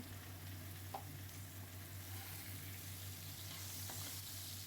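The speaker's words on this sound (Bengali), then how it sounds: "আলুটা ভালো করে ভেজে নেব" Potatoes seasoned with salt and turmeric frying in oil for a Bengali home-style dish, a quiet, even sizzle with a faint low hum behind it and a couple of soft stirring taps, no speech.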